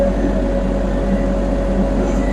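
A GroundHog BH40D track excavator runs close by in a steady, loud, droning engine rumble with a constant low hum and no breaks.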